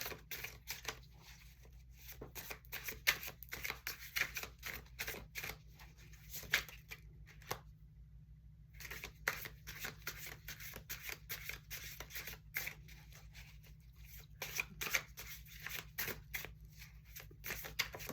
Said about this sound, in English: And I just shuffle until the message is very clear.